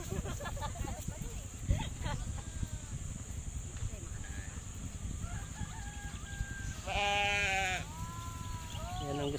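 Sheep bleat amid goats, with a clear loud bleat near the end standing out over steady background noise and a few fainter animal calls, while people talk nearby.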